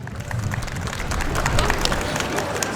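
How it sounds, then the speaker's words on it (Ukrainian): Applause for a child rises from the audience at an outdoor Christmas concert on a town square, a sustained burst of many hands clapping with crowd murmur mixed in. "Для Владислава оплески"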